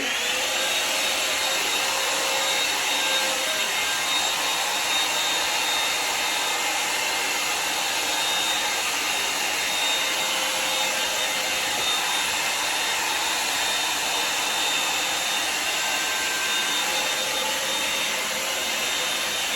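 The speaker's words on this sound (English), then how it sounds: "I'm just gonna start blow drying the front to give it more body." A Revlon One Step hair dryer blows steadily and loudly on long hair throughout, a constant close airy roar with a faint high whine and no pauses or speech.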